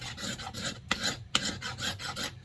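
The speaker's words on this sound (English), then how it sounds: "scraping it because that's the only way you get this shit off" An axe handle being scraped clean of residue, a close, dry rasping in repeated strokes with a couple of sharper scrapes along the way, no talking.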